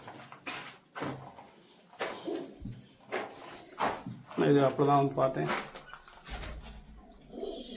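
Pigeons coo in a farm coop where young squabs are kept, repeated soft throaty calls and occasional wing flutters close by, running beneath someone talking in Tamil.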